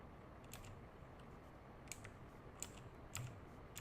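Faint, distant computer keyboard clicks tap irregularly over a steady low hum, a handful of sharp separate keystrokes spread across the stretch.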